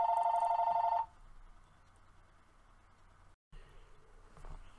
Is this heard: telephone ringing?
yes